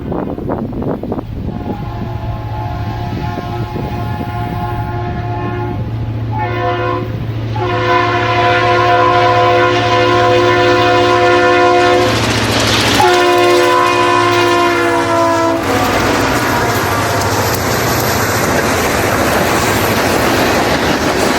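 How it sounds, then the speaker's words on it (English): Freight train LMN 106, led by three Kansas City Southern locomotives with an ex-Conrail unit in front, rumbles past close by and sounds several long, loud horn blasts over the roar of the engines and the rolling wagons. "This train was sporting 3 Kansas City Southern Jeeps, with the leader being ex-Conrail."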